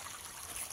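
Cold borewell water runs steadily on a small farm with chillies, chickpeas and drumstick trees, a continuous close hiss of flowing water with no breaks.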